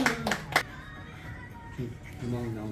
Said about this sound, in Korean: 기대의 박수를 짝짝짝.